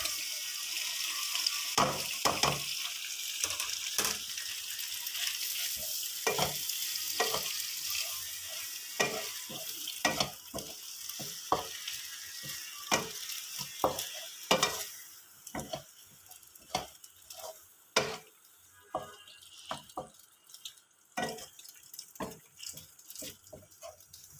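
Boiled macaroni tipped into a pan and stirred, a sustained frying hiss with repeated spoon scrapes and knocks in an uneven rhythm, close, thinning to scattered clicks toward the end, no talking.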